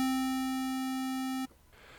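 A Novation V-Station synthesizer oscillator holds a steady, buzzy square-wave tone, loud and unbroken for about a second and a half before cutting off abruptly into near silence.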